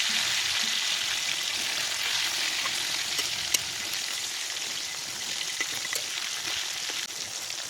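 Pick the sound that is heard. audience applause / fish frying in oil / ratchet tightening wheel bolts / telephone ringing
fish frying in oil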